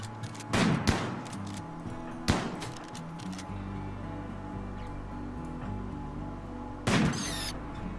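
Sharp bursts of gunfire in the colony-building video game Rimworld, with three distinct loud cracks spaced several seconds apart over a steady low in-game hum.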